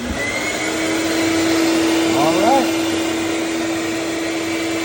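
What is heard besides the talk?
rat vacuum trap running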